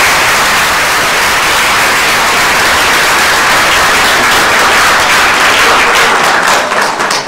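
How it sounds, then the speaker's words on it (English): A conference audience applauds the panelists after a campaign finance discussion, producing loud, dense, sustained clapping that fills the whole stretch without a break. "could we please give our panelists a round of applause?"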